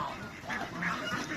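Black chicks calling with short, repeated cheeping and peeping notes, several close together over a murmuring background.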